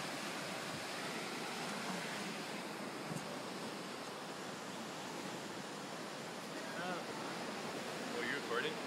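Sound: ocean waves at the beach

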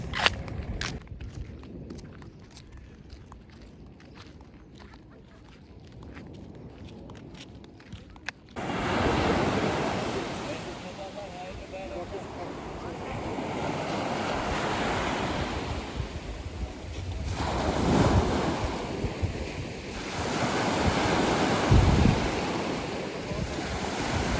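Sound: sea waves on the shore at Taşucu, Turkey

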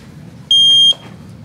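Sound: buzzer going off

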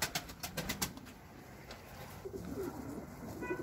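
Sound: pigeons in a coop

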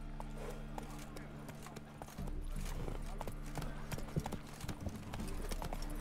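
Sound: horse galloping in video game The Witcher 3

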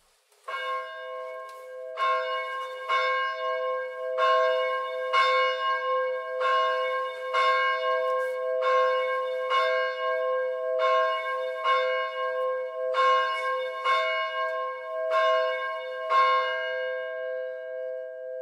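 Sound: church bells ringing

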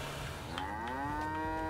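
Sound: cows mooing in video game Trader Life Simulator 2

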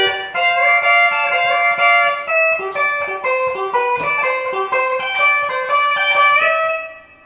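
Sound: pedal steel guitar intro played slowly

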